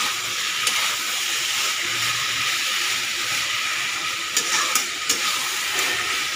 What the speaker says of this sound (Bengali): হালকা একটু আরও ভেজে ভেজে যাক